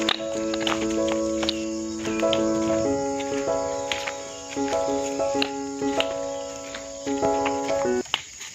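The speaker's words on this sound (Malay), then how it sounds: "Sambil ditemani oleh cengkerik dan bunyian burung-burung." Crickets chirping along a hill hiking trail at Bukit Melati, Nilai, a loud, continuous layered trilling with overlapping pulsing tones and occasional birdlike calls, close and constant, with no voices.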